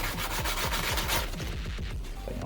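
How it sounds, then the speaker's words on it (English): Resin piece being hand-sanded with 180 grit sandpaper, a steady scratchy rubbing in quick repeated back-and-forth strokes, close and continuous with no talking. "I am just using 180 grit sandpaper for the finish that I'm doing"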